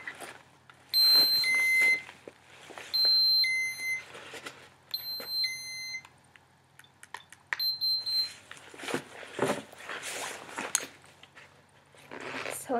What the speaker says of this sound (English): Why are we beeping?